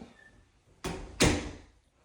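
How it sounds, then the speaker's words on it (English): The front door of a house is opened with two sharp, close clunks about a third of a second apart, each fading into a short rattle against a quiet room. "walking in the front door here. Move these goodies out of the way so I can open up."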